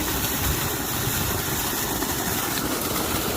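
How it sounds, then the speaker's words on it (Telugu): A submersible borewell motor runs and pushes water out through pipes beside the Godavari, a loud, steady, unbroken rumble and rush heard close up. "మోటార్ ఆన్ చేసాము నీళ్ళు చాలా బాగుతున్నాయి చూడండి"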